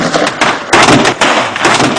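Gunfire in a Brazilian film scene: a rapid burst of loud, sharp shots in close clusters, several volleys over two seconds with no talk over them.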